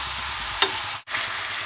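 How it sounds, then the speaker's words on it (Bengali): Meat and potatoes fry for a chicken curry, a dense continuous sizzle with a brief stirring scrape and a momentary dip as the pan is disturbed, close and loud with no voices. "এবে এথিরে আমি মাংস আর আলু পকাই দেবা"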